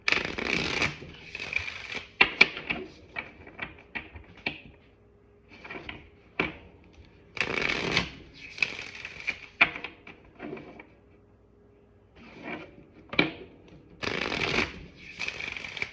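A Moonology Oracle card deck being shuffled by hand, close and crisp riffling bursts separated by brief pauses, with no voices.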